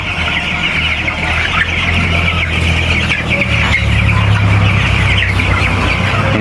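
Broiler chickens fill a poultry farm shed at night with a steady, dense chorus of soft clucking and murmuring, a close, continuous flock sound with occasional sharper calls.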